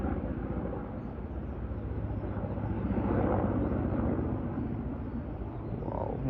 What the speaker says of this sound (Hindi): इधर आर्मी का हेलीकॉप्टर होगा ये पक्का।